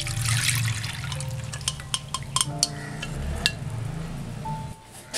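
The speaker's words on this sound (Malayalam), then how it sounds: "ഈ വെള്ളം നമുക്ക് അരിച്ചെടുക്കാം" Mutton cooking water strained through a sieve, a steady close pour of liquid with light clinks of utensils against a pot, the flow fading out near the end.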